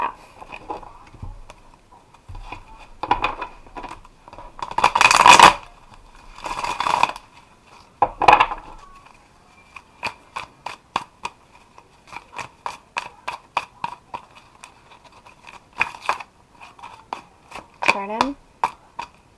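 A deck of tarot cards is shuffled in short bursts of riffling and tapping, with scattered clicks and small handling sounds between them, close and fairly quiet.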